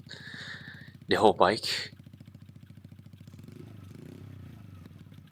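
A moped engine idles with a steady, fast putter throughout, close and even. A short burst of speech sits over it near the start, then the engine continues alone.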